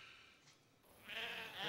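A sheep bleats faintly and briefly after a quiet moment, a wavering nasal call rising out of low background hiss with no talking over it.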